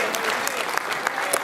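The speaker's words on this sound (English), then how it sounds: "I give God a hand clap of praise." A Baptist church congregation at a spring revival claps hands in praise, a steady, dense round of applause that fills the room at an even level for its full length.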